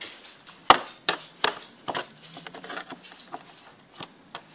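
Plastic tabs on a Packard Bell EasyNote AJ300 laptop keyboard pried loose, giving a series of sharp, close clicks and snaps at irregular intervals with quieter scraping in between.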